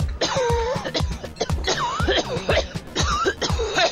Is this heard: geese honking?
no